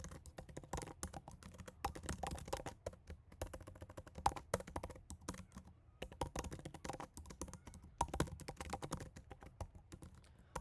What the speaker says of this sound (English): I typed vi hello.c, right? And then I typed I on my keyboard